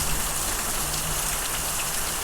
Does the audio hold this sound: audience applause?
no